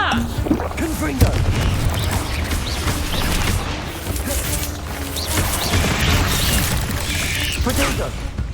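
Confringo blasting-spell explosions in Hogwarts Legacy, inside a spider cave: repeated sharp bursts and crashes over dense battle noise, with someone shouting spell names throughout.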